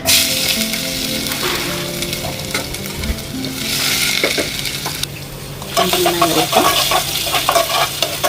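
Fish frying in hot oil for a Sunday lunch of rice and avoli (pomfret) curry, a steady loud sizzle with crackling bursts and occasional utensil scrapes, swelling near the end.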